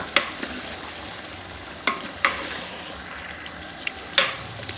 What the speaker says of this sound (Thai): ใส่เนื้อ จากนั้นคลุกให้ทั่ว